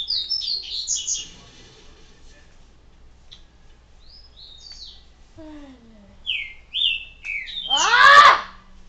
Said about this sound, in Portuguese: Cada um desses três passarinhos irrita quando você faz um vídeo